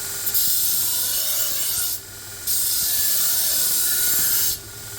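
A damaged Dalstrong knife sharpened on a stone, long steady abrasive strokes back and forth with short pauses between passes, close and loud with no voices.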